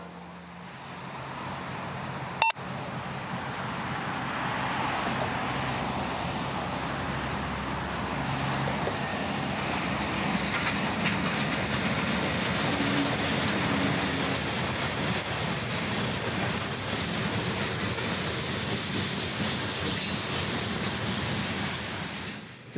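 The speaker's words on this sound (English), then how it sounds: "FEC train 202 shows his face" Florida East Coast Railway freight trains 202 and 905 roll past at the north end, a loud continuous rumble of wheels and wagons that holds steady throughout, with a brief sharp clank early on.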